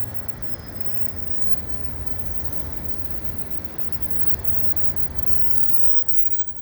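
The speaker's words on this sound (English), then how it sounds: "I got a CN train here underneath the St. John's" A CN freight train passing beneath a highway overpass in winter, a steady low rumble with wind noise that stays constant and moderately distant throughout, no voices.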